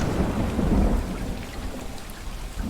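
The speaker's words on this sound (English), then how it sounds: "the tank has rain" Simulated tropical rainstorm inside a gecko terrarium tank: steady, dense rainfall patter with low rumbling thunder swelling and fading, close and fairly loud, no voices.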